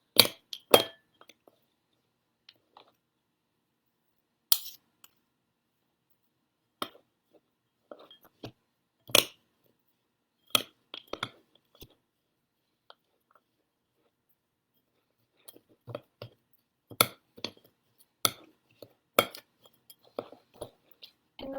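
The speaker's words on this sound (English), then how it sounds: "I am bringing my oats and my nuts in from the side and mixing them all together in the middle, mashing them around" Oats and nuts being mixed and mashed together in a bowl for energy bites, producing sparse, quiet clinks and scrapes of a utensil against the bowl, scattered in irregular clusters with long silent gaps.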